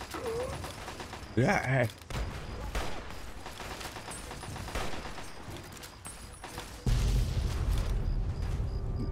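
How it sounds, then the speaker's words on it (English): Explosions and bursts of gunfire in the Fallout Tale of Two Wastelands video game, repeated booms and crackling blasts throughout, with a louder sustained blast at the end and a brief voice in between. "So many explosions."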